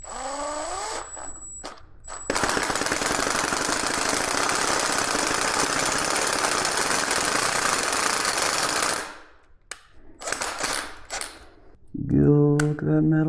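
A drill, lubricated with cutting fluid, grinds loudly and steadily into metal on a pressure washer engine for several seconds, then stops, followed by quieter clinks and handling noises.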